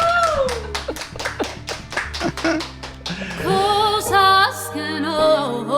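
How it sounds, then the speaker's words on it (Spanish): A handful of people in a small studio audience clapping in a quick, sparse rhythm for a few seconds, close by, before the clapping gives way to music and voices. "Venga, aplaudan."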